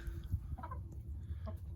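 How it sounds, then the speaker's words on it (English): Hens clucking in a pen on a homestead, a few soft low clucks and murmurs close by, brief and quiet, with no talking. "These chickens, my hens that I've had, are also exploring"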